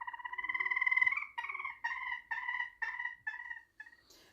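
Pet chicken Gloria gives a loud drawn-out squawk, then a string of seven or eight shorter, evenly spaced clucks trailing off, close and alone with no voices.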